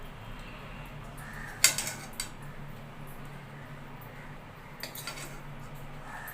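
Metal cutlery clinks against a plate and pot as vegetable chicken curry is served, a few sharp scrapes and taps spaced apart over a steady background hiss.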